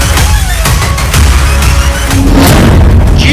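A boiler explodes at a chemical factory in Dombivli, Maharashtra, producing loud, continuous, rumbling booms with dense, crackling noise that sustain without a break.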